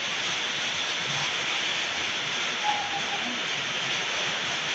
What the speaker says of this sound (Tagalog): Naha, dagko kay tulo ulan.